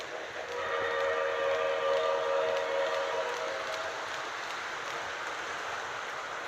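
An O-scale Lionel model train whistle sounds in one long, steady tone with a hissy, airy edge, then trails off, over a faint electric hum.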